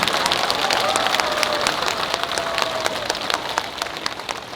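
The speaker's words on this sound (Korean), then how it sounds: "적당히 박수 한번 치고 딱 지나가잖아." An audience at a Buddhist expo talk in Busan applauding, a dense patter of many hands clapping at moderate distance, steady throughout with a faint voice underneath.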